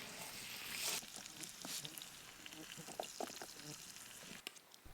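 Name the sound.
fish fillets searing in a pan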